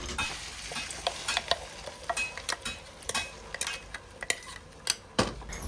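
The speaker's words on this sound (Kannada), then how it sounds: "ಬಾಣಲೆಗೆ ಸ್ವಲ್ಪ ಆಯಿಲನ್ನು ಹಾಕ್ತಾ ಇದ್ದೇನೆ. ಇದಕ್ಕೆ ರುಬ್ಬಿಕೊಂಡ ಮಸಾಲನ ಹಾಕ್ಕೊಳ್ಳಿ" Ground masala paste sizzles and spatters softly in hot oil in a wok, with a spoon clinking and scraping against the pan at an irregular pace.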